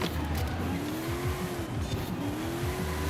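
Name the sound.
car drifting with tire squeal in Forza video game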